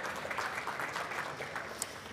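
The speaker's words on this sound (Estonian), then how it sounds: "Ja, aitäh Tarvo, aplaus palun." A room audience claps after a presentation at a company event, a soft, steady patter of many hands held at an even level for a couple of seconds.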